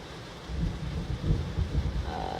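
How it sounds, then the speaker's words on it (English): Low thunder rumbles over a steady wash of rain outside, a deep, rolling swell that rises and falls without any voices. "like I said, it's raining outside."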